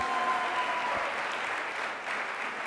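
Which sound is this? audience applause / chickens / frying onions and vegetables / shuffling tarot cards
audience applause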